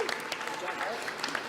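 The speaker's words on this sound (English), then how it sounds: "Give them a round of applause, folks." Applause from the audience at the AFN Annual General Assembly for the co-chairs, a dense steady patter of clapping from a large crowd in a hall that fills the whole short stretch.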